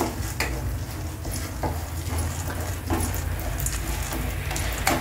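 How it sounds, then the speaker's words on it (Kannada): Coriander seeds frying in a pan with roasted gram for a bitter gourd masala, a steady close sizzle and crackle with occasional stirring scrapes, no talking. "ಇದು ಧನಿಯಾನ ಇದಕ್ಕೆ ಹಾಕ್ತಾ ಇದ್ದೀನಿ. ಸ್ವಲ್ಪ ಫ್ರೈ ಆಗಬೇಕು."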